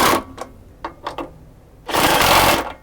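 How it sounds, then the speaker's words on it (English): Nuts being tightened down on the motor axle of a Golf Skate Caddy: several short mechanical whirring bursts, then a longer, louder buzzing run near the end, with no talk. "the second process is to tighten down the 4 nuts"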